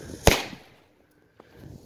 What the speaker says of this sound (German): Da machen wir hier direkt mal so ein Pyro Cracker.